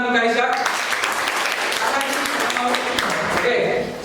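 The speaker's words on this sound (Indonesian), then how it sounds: "Oke, tepuk tangan untuk Kalisa." Classmates clap for a student in a classroom lesson on the sacrament of marriage, a burst of fairly close applause with voices talking over the start and the clapping fading near the end.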